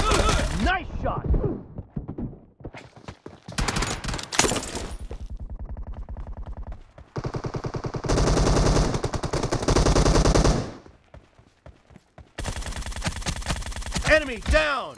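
Loud video game gunfire comes in bursts of rapid automatic shots and single cracks, separated by short pauses, with synthetic game voice callouts in between.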